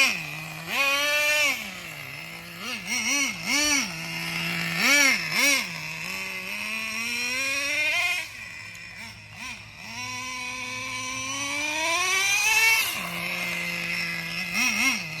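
A Traxxas 4Tec nitro RC car engine with a two-speed transmission and aftermarket exhaust runs close, its high, buzzing whine repeatedly revving up and dropping back, with longer sustained climbs between short blips.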